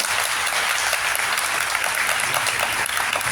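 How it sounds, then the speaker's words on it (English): Students at a career guidance program burst into dense, loud applause that holds steady and unbroken throughout. "Give a clap, big clap to him."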